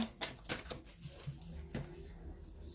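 A deck of tarot cards being shuffled close up at low volume, a few soft crisp riffling bursts and papery slaps spread unevenly through the stretch.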